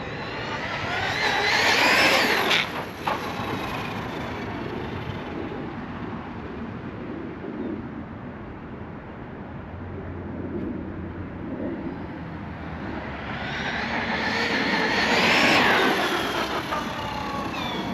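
An Arrma Talion EXB RC car on high-speed gearing and bigger tires screams past twice, a whine rising as it nears and falling away, with steady motor buzz in between and no talk.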